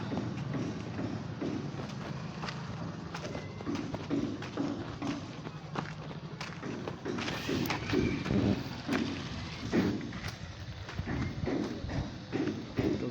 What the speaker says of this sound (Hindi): बैल बुही कर ऊपर के चढ़ुचे